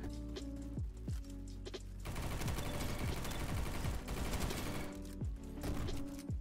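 Weapons fire in the Roblox shooter Bad Business on a Christmas-themed map, a loud burst of rapid, crackling shots in the middle. Sharp individual blasts and mechanical clacks come before and after, with no talking.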